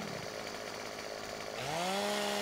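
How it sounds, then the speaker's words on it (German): A chainsaw in the farming game Landwirtschafts-Simulator 15 cuts a branch. A brief idling drone rises into a sharp, climbing whine as the saw revs up. "Zufällig habe ich gerade eine Säge einstecken."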